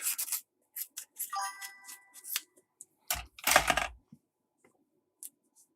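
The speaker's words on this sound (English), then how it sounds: "where's my scissors?" Scissors cut while someone works on an iQue GBA or Neo Geo AES console, making a string of crisp, close snips and rubbing sounds with short pauses between them and no talking.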